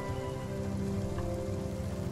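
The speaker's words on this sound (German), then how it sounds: "Der regnet aber hier gerade sehr." Steady rain patters continuously on a surface in the video game Spiritfarer, with a soft low hum underneath and no voices.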